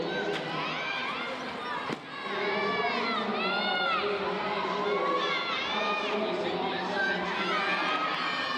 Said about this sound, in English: A cheer for all of our contestants and their impressive efforts.